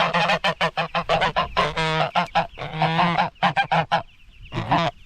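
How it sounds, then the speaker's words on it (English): Guard geese on a farm honk loudly and close, in rapid, overlapping bursts of harsh calls with short gaps, ending in one last honk after a brief pause. "the guard geese do a really good job of making a lot of noise at night"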